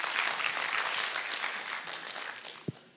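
Audience at an artificial intelligence and inclusion symposium breaks into applause, a fairly faint, dense clapping that tapers off, ending with a single low thump.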